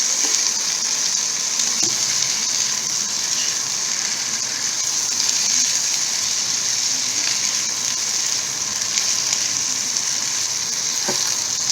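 Szechuan pepper and red chili powder fry with prawns in a hot pan, giving a dense, even sizzle that holds at a strong level throughout, with only a few faint clicks and no talk.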